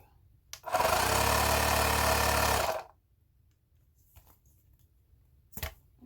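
An Akface portable electric bike pump runs while inflating a tyre, giving a loud, steady motorized buzz for about two seconds before it cuts off, followed by quiet background and a brief clunk.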